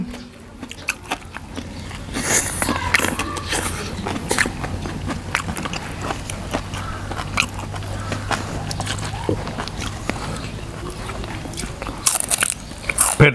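Crunchy chewing of fried fish eaten with sticky rice, with repeated crisp bites and crackling mastication close to the mic and irregular in rhythm, plus a little talk in the background.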